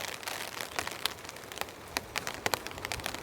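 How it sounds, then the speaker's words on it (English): Rain patters on a tent pitched on a cold, windy mountaintop, with scattered close drops tapping sharply over a soft, steady hiss. "we're back out on the mountain in the rain"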